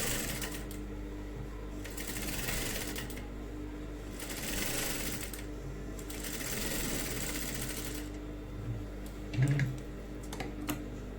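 A sewing machine double-stitches the sleeve of a designer blouse, its motor running in steady bursts separated by short pauses, fairly quiet and close, with a few small clicks near the end.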